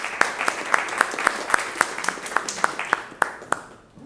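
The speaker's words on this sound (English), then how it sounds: "let's clap again real quick for our first presenter" Audience applause after a conference talk, a small sparse crowd giving scattered individual claps in an uneven rhythm that thins out toward the end, fairly close.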